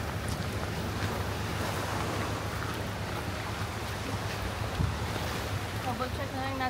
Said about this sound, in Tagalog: Ganda sana ng dagat, no? Ang alakas na ng alon.